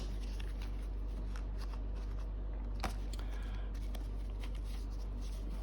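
A deck of Ukrainian-language fortune-telling cards is handled and shuffled up close, with a steady riffle of soft papery flicks and one sharper snap midway, quiet and continuous.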